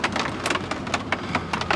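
Heavy rain pours down at a campsite in the Ozarks during a thunderstorm, a dense, loud, steady hiss with sharp drop impacts, as if on a tent or nearby surface, heard alone without voices.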